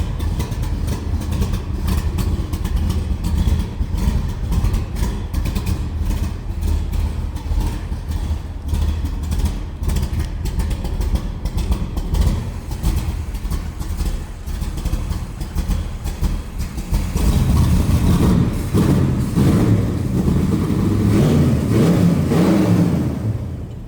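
A 1965 Shelby Cobra Backdraft replica with a 4-barrel carburetor idles with a lumpy, steady rumble for a long stretch, then revs up into a louder, rising roar near the end, close and unaccompanied by talk.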